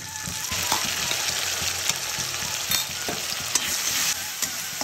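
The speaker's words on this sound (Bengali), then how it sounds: "এবার আমি বাটা মশলাটা দিয়ে দেব" Ground paste of garlic, ginger and green chilli hits a pan of frying onions with cumin, sizzling steadily close by while a spoon scrapes and stirs in irregular clicks, for a stingray fish masala curry.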